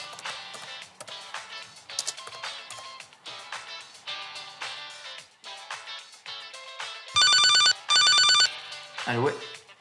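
Telephone ringing with a second incoming call, two loud electronic ring bursts near the end, after a stretch of speech-like sound and clatter.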